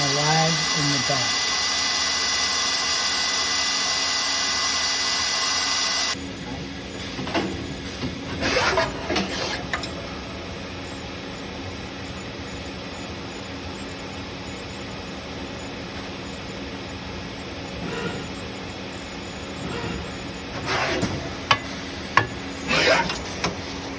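A 2013 Tsugami B0206-II Swiss-type CNC lathe runs its sub spindle at 6,000 RPM, giving a steady high whine over machine hum, with intermittent mechanical clatter and bursts of activity in a shop setting.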